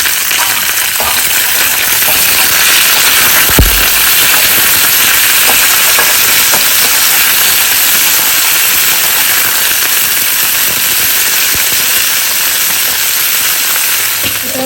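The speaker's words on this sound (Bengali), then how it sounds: "কুমড়োটাকেও একটু ভেজে নেবো।" Pumpkin pieces fry in a hot pan with oil, giving a loud, continuous sizzle and hiss close to the microphone, with a brief clatter of a utensil partway through.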